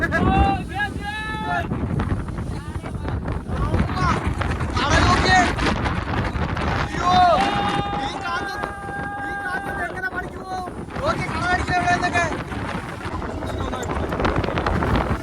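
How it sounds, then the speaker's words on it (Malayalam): Strong wind buffets a small fishing boat out at sea, a continuous roaring rush against the microphone. Voices break in intermittently over the gusts. "കാറ്റത്ത് വള്ളം ഓടുമ്പോൾ ഒത്തിരി കൂടെ ശക്തിയായിട്ട് സംസാരിച്ചാലും സൗണ്ട് കേൾക്കത്തില്ല"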